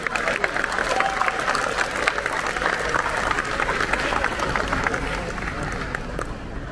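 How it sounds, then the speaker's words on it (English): Audience applause at an Ola customer day event at the Futurefactory: dense, steady clapping from a large crowd, loud and sustained throughout, with some crowd noise mixed in. "Can we have a big round of applause for him?"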